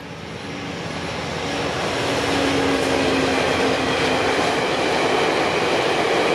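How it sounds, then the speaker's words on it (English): A VIA passenger train rumbles past close by on Toronto's Scarborough waterfront, a loud steady roar of wheels and engine that swells and then holds without any voices. "Oh, speaking of VIA trains."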